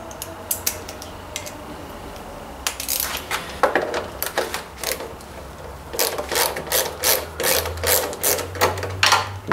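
Rapid ratcheting clicks from a quarter-inch wrench loosening two tiny bolts on a John Deere Z355R zero-turn mower, coming in close, repeated bursts over a steady background hum.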